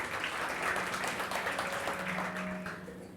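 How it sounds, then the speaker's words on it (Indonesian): A church congregation applauds together for God, a dense, steady wash of clapping that holds at an even level for a few seconds before easing off slightly at the end. "Boleh kita berikan tepuk tangan buat Tuhan gak?"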